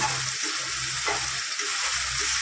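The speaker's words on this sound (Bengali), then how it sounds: "প্রায় মশলাটা ভাজা হয়ে গেছে" Spice masala fries in oil in a pan for a Bengali green jackfruit kalia, a soft, steady sizzling hiss with faint stirring scrapes, close by and without talk.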